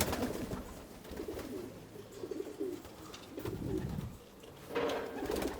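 A breeding pigeon coos in soft, low, throaty rolls, repeated several times close by, with some handling noise and no speech.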